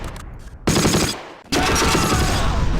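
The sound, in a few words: gunfire shot at a flak gun, Close Combat video game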